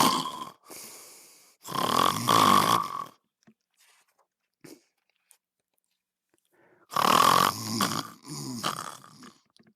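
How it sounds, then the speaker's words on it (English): A cartoon sloth snores tremendously loud in long, rasping bursts, two drawn-out snores separated by a few seconds of near silence and a few faint clicks. "The tremendously loud snore of the sloth woke up the cockatiel, the coati, and the jaguar."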